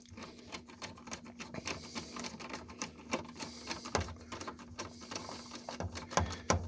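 A self-tapping screw is driven into a Little Giant condensate pump, Model 554401, giving a dense run of rapid clicking, ticking bursts over a steady hum, close and moderately loud for the whole stretch.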